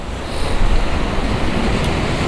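Wind and sea waves at the coast, tide churning: a steady, loud broadband wash of surf and gusting wind, continuous with no clear breaks and no talking.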